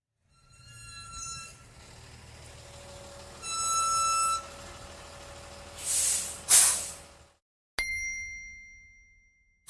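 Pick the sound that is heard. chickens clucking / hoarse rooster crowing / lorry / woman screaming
lorry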